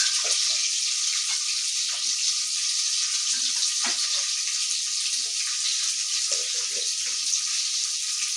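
Onions sizzle steadily in hot oil while frying for a mushroom biryani, a continuous close hiss with occasional faint clinks and no talking.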